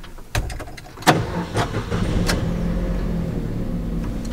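A car engine cranks and catches with a sharp burst, then settles into a steady idle rumble, close by and alone, with a few clicks just before the start while a dashcam is fitted to the vehicle.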